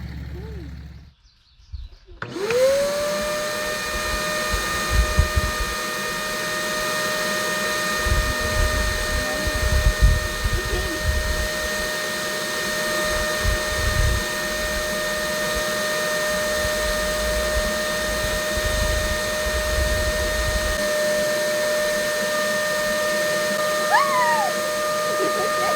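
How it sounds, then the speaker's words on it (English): A water pump runs steadily for a long stretch, its strong whine and tonal hum starting abruptly near the beginning and holding nearly constant, with low rumbling underneath and brief pitch shifts near the end. "So we're just gonna let it pump for a while and see if it ever completely drops it."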